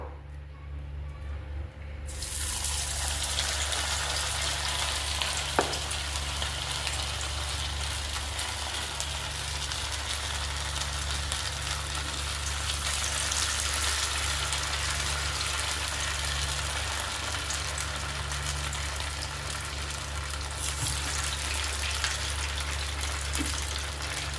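Sabudana batate vade fry in hot oil, a loud continuous bubbling sizzle that starts abruptly after a short quiet moment and holds steady, close and alone.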